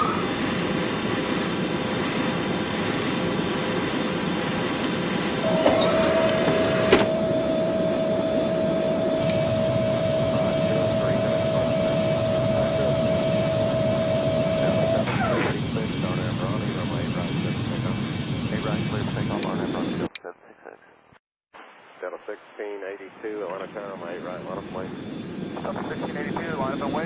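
Airliner jet engines in the video game Airline Commander roar steadily and loud through a takeoff run, with a whine that rises and then holds. The roar cuts out briefly near the end before a softer engine sound returns.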